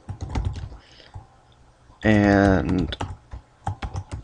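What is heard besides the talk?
typing on a computer keyboard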